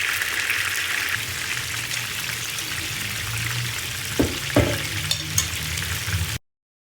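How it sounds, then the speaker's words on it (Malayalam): Continuous sizzle of marinated chicken pieces frying in sunflower oil, a few sharp utensil knocks near the end before everything stops abruptly. "ഇനി നമുക്ക് മാരിനേറ്റ് ചെയ്തിരിക്കുന്ന ചിക്കൻ ഫ്രൈ ചെയ്തെടുക്കാം."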